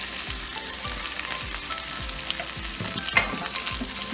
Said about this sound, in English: stir this egg and the steak up